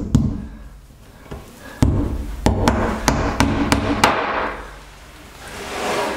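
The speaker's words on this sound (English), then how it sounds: "all we do is we just hammer those into the wall" Sharp hammer blows ring out one after another, a few spaced strikes then a quicker run of about six, tapping plastic wall plugs into a tiled shower wall.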